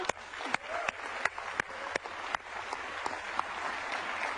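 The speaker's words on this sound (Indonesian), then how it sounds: "Sekali lagi tepuk tangan dong untuk Pak Emto." A studio audience on a talk show gives applause for a guest, mid-sized clapping with a few distinct sharp claps standing out at an even level.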